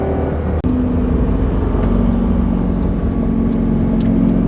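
Lamborghini Gallardo 6-speed manual accelerating hard, its engine revving high with a steady, loud drone and a brief dip like a gear change near the start, heard from inside without talking.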